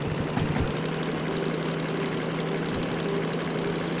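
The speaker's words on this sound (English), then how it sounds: "We'll let the revs build up a little bit." A heavy diesel locomotive engine in the Derail Valley simulator game, a DM3, drones steadily at a constant pitch as revs build, a low rumbling hum with a faint higher whine layered on top, with no voices.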